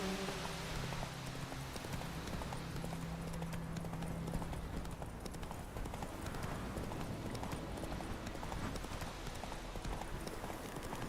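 Roach, Geralt's horse in The Witcher 3, clip-clops at a steady trot throughout, hooves close and continuous over a faint rain-like background with a brief low hum early on.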